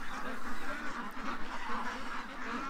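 A flock of ducks and a goose quacking and honking together in a continuous, busy chorus, close by and fairly loud with no break in the calls.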